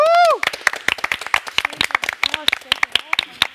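A studio audience on a television quiz show breaks into lively applause for a singer, with scattered claps that start just as a voice tails off.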